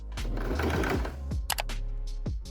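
A sewing machine runs close by, stitching ruffles onto a quilted tote bag, with lace also part of the bag. It gives a steady mechanical whir with a few short clicks and pauses, and no one speaks.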